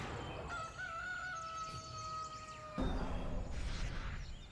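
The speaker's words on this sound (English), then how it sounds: "Daytime now. The cockerel crows." A cockerel crows at daybreak in the Dota 2 video game, one long drawn-out call at moderate loudness, followed by a soft whoosh over steady background ambience.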